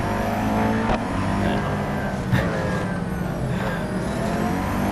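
A Koenigsegg Jesko and a Hennessey Venom F5 race in a two-lap video game event, engines roaring loud and continuous with rising and falling revs and a brief surge as a car passes.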